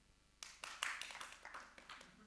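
A few audience members at a Python conference talk clap to vote: a short, faint, scattered patter of hand claps in a quiet hall, irregular and thinning out.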